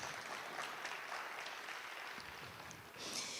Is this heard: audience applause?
yes